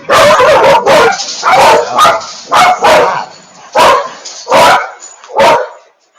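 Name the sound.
dogs barking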